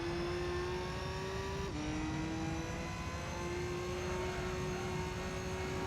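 Racing car engine in Gran Turismo 3, a steady high-pitched drone holding one note with a brief dip in pitch, continuous and fairly loud with no voices.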